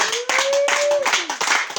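Clapping from a church congregation during a healing service, a loud continuous patter of many hands with a sustained vocal tone running through it and voices mixed in.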